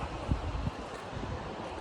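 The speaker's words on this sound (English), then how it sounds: "It's really windy" Strong wind blows outdoors at dawn in a canyon near the Kern River, a steady broadband rush with a couple of soft low buffets against the microphone, fairly faint.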